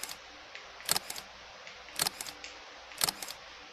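Phone camera shutter clicks set off by a Bluetooth remote on a selfie stick tripod, three short crisp snaps about one second apart, each with a quick double click, close and clear over faint room noise.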